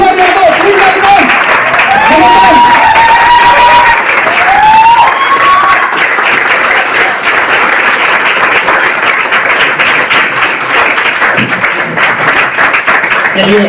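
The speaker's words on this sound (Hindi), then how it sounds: "जबरदस्त ताली बजा दीजिए" A seminar audience claps and applauds to welcome a speaker onto the stage at an RCM business mega seminar, a loud, dense, sustained ovation with crowd noise and voices over it, while someone speaks through the applause.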